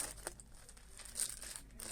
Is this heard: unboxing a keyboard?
yes